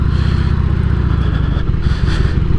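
A Harley-Davidson Sportster 883 motorcycle rumbles steadily while riding, a dense low engine drone with road and wind noise running continuously throughout, loud and close.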